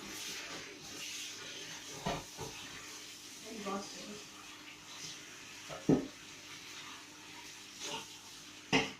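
Leeks are rinsed in water, splashing and swishing near a tap. A voice talks over the rinsing, and a few louder splashes and clinks come through.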